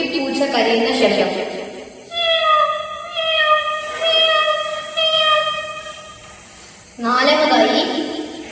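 A voice imitates a kitten crying, giving four high, thin, wavering meows, each about a second long, between short bursts of breathy vocal noise.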